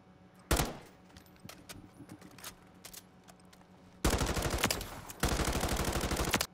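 Automatic gunfire from a high-recoil gun in a video game: single sharp shots, then two long rattling bursts close and loud, with no voices over it.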